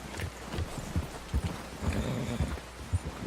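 A heavily laden horse plodding through deep snow in the video game Red Dead Redemption II, with dull, muffled hoof thuds in an uneven walking rhythm, close and steady, with no talking.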